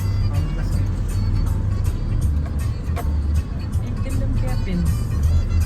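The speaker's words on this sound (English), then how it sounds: "here we are piling into the car, getting ready for the big day." A car pulls out of a neighborhood, heard from inside as a steady low engine hum and road rumble, with people talking over it throughout.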